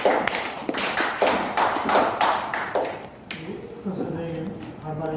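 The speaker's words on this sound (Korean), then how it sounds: "큰 박수로 감상을 모시겠습니다" Applause welcoming an honorary professor to the lecture podium, with scattered hand claps from a modest audience for about three seconds, fading as a voice begins speaking.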